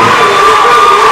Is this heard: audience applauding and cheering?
yes